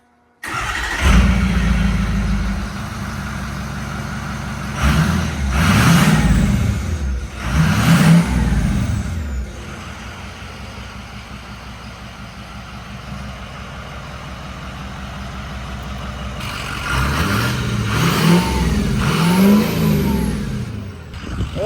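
A 6.0 Power Stroke diesel truck engine fitted with a new exhaust revs loudly in repeated bursts, each rise in pitch falling back to a steady idle between them, with no voices.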